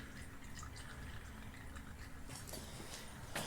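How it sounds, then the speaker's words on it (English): Old engine oil drains from a neglected, long-forgotten generator in a faint, continuous trickle with soft dripping, heard close over a low background hiss. "So I got the rest of the oil draining here."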